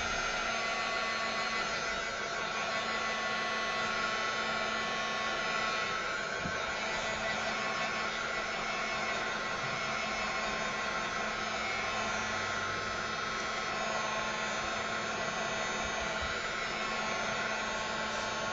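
A hair dryer blows steadily on a mixed media canvas to dry wet paint, a constant loud whooshing roar with an even electric hum that runs unbroken for the whole stretch.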